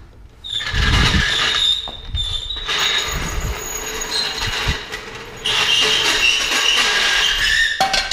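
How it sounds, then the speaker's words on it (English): A mechanical car jack creaks and groans as it lowers a 2013 Mustang GT, with squeaky metallic whines and occasional clunks throughout, close and fairly loud. "That's so annoying, that jack noise."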